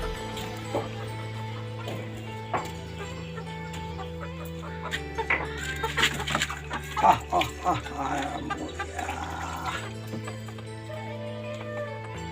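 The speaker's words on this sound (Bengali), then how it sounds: "মুরগি" Chickens cluck repeatedly nearby, with scattered bursts of clucking and squawks over a steady background hum.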